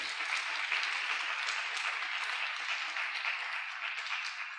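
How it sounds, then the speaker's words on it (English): A conference audience applauds panel speakers at a neurodiversity session, a dense, steady wash of clapping that holds for several seconds and tapers slightly at the end. "Could we have a big round of applause for Vignesh,"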